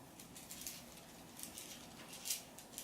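Beaded jewellery jostled by hand gives off faint, brief bursts of fine rattling like light rain, coming in a few soft clusters against a quiet background.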